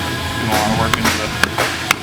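Several sharp metallic taps of a leather-faced slab hammer striking an aluminum body panel of a 1967 Land Rover Series 2A, irregularly spaced, close up, over a background of shop noise.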